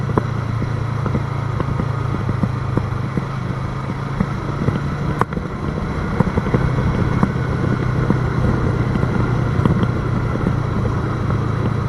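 A twin-cylinder Yamaha R3 motorcycle runs through hilly country roads in Jamaica, its engine and exhaust a steady, close, low drone with a faint hum, a brief sharp click midway, and no voices.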